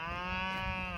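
A cow beside a country road near Tigaki on a bike ride bellows one long, loud, close moo that holds steady for the whole second, with no voices over it.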